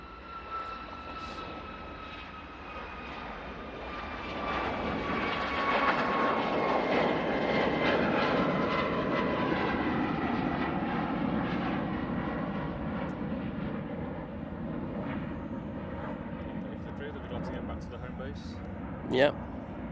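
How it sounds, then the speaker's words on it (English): A Ryanair Boeing 737 MAX 8 at Manchester Airport produces a steady, moderately distant jet engine rumble that builds and then holds, while a person talks throughout. "Ryanair 737 MAX 8, I have no idea where it's going."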